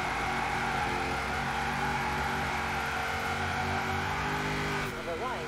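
Cadillac XTS limousine engine drifting in Forza Horizon 4, a steady loud droning engine roar with layered harmonics that holds throughout, a brief pitch wobble near the end, with a voice talking over it.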